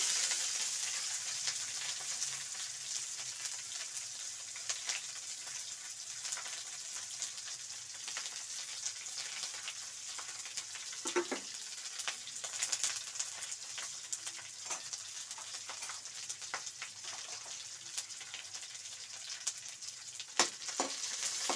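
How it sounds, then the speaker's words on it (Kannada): Onions with curry leaves and popped mustard seeds fry gently in a pan for ridge gourd gravy, making a faint, steady sizzle with scattered small crackles and pops. "ಈರುಳ್ಳಿ ಎಲ್ಲ ಸ್ವಲ್ಪ ಫ್ರೈ ಆಗಲಿ ನೋಡಿ ಇವಾಗ ಫ್ರೈ ಆಗಿದೆ"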